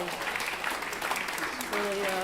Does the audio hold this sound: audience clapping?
yes